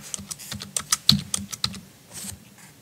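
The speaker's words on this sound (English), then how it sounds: "Just click to the right of your A, enter, and type out whatever you would like." Typing on a computer keyboard while entering text in laser engraving software: a quick, uneven run of sharp key clicks over about three seconds, close and fairly quiet, with no talking.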